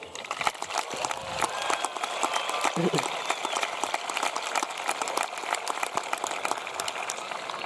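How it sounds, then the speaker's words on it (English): Audience applause for graduates at a high school commencement ceremony, a dense, steady wash of clapping lasting throughout, with crowd noise and some voices mixed in. "Let's give our graduates and yourselves a big round of applause"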